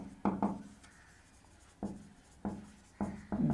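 Chalk or marker strokes on a board while an equation is worked out, several short scratchy bursts in an irregular rhythm, close and fairly loud, with no voice over them.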